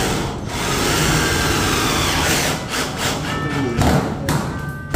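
Pneumatic nail gun firing while fastening decorative trim strips onto a house, a run of sharp thumps and clacks over a steady background hum, fairly loud and close, with no talking.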